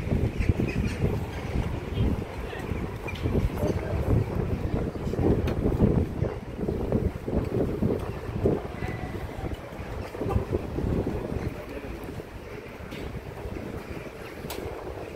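Boat motors near the shore in Aliağa, İzmir, a steady low rumble of engines under heavy, gusting wind noise on the microphone, with no talk.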